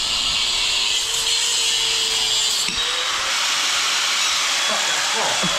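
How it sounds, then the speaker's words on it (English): A power tool, probably a grinder, runs continuously and loudly in a garage during a car build. It holds a dense, steady hiss with faint tonal whine, and muffled voices sit underneath. "you just absolutely grinded it, mate"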